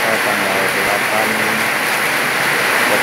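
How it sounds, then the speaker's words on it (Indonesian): Very heavy rain pours down in Kampung Curug, Pakansari, Cibinong, Bogor during the first storm of October, a loud, dense, unbroken hiss close by, with a voice speaking faintly under it. "Hujan yang sangat deras."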